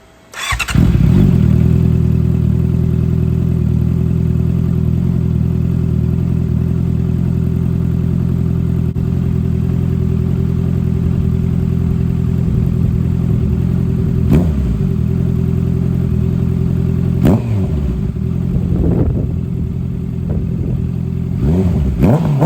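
A 2023 Honda CBR650R four-cylinder sport bike fitted with a CS Racing aftermarket exhaust idles loud and steady up close after starting, with a few brief blips of the throttle near the end.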